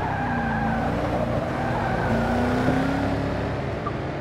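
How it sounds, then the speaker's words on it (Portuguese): Race cars running in Forza Motorsport 6 with AMG GT S Cup cars at Mount Panorama, engines roaring steadily while tires squeal and skid across the stretch, with no clear impact standing out. "Eu tô escutando barulho de carro se tocando."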